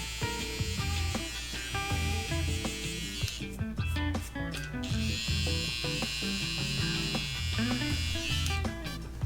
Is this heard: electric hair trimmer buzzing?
yes